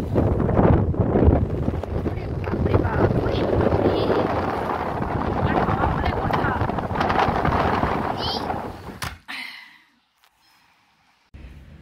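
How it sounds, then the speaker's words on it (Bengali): Strong wind blows outdoors, roaring and buffeting the microphone in loud gusts for most of the clip, then cuts off abruptly into near silence. "কিন্তু প্রচণ্ড হাওয়া দিচ্ছে"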